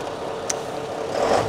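Mercedes-Benz SK fire truck with a V8 engine idles in a steady, even rumble, close by, with a brief click and a slight swell near the end.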